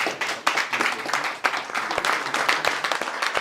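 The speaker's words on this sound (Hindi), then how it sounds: "एक बार जोरदार तालियां उनके लिए." Audience applause at a Zee Bharat awards stage event in London for film director Bharat Kumar, a steady burst of many hands clapping that holds loud and even across the whole moment.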